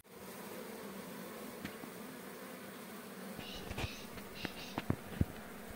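A steady, dense buzzing of many Asian honeybees (Apis cerana indica) drones throughout, with a few sharp clicks and taps near the end.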